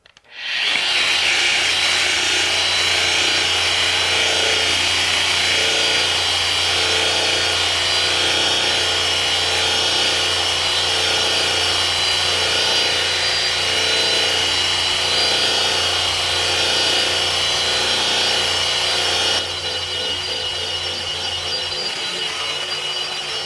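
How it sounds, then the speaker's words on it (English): A Metabo SE 17-200 RT burnishing machine polishes steel with a 120 grit abrasive, giving a loud, steady whirring grind with a rubbing texture that runs continuously and drops slightly in level near the end. "I've got the 120 grit. I'm going to step up the speed just a touch."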